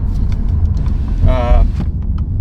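An Infiniti Q50 fitted with AMS intakes drives along, a steady low engine and road rumble from inside the cabin with a brief higher whine midway.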